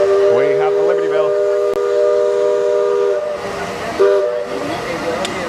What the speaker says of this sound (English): You heard the steam whistle.